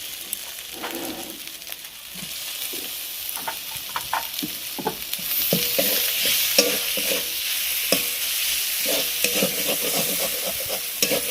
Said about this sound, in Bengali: ভালো করে কষিয়ে নেব এবার দিয়ে দেবো টমেটোটা